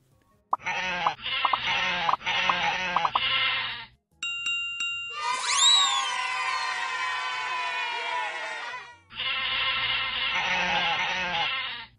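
Cartoonish sheep bleat in a children's video game: bursts of repeated bleats, then a chiming jingle and a long warbling bleat, then another run of bleats.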